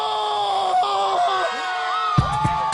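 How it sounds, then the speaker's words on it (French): A man lets out a long piercing scream that wavers and rises, loud and sustained, with a few sharp knocks or thumps near the end. "il pousse un hurlement déchirant"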